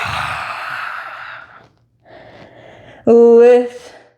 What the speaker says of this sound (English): Lion's breath is the out with the tongue sticking out